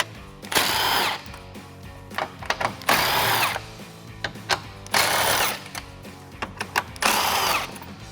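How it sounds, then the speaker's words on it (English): An impact gun fitted with a deep socket removes 10mm bolts at the top of a 2014-2015 Silverado 1500 headlight area, firing four loud, close, roughly one-second bursts with quieter clicks and handling noises between them. "there's 4 10mm bolts at the top, so I'm switching over to an impact gun and a deep socket"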